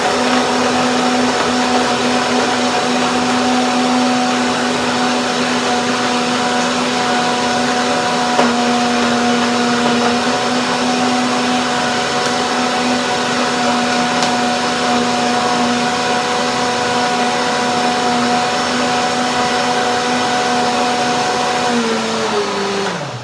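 A power blender runs steadily at close range, whirring through a large batch of persimmon chocolate pie filling with a constant motor drone that slows and winds down at the very end, no talk over it.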